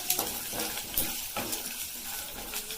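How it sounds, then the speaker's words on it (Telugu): Mustard seeds, curry leaves, cumin and chana dal fry in hot oil on low heat for a Telugu ivy gourd fry, a steady close sizzle with small crackles and a few stirring clinks, no talking. "ఇలా 2 మినిట్స్ సిమ్లో ఫ్రై చేద్దాం"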